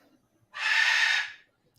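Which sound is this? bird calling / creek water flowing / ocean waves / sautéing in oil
bird calling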